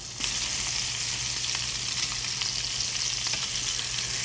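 Hamburger steak patties sear in olive oil in a hot skillet, a steady, dense sizzle and crackle that carries on evenly throughout with no voices.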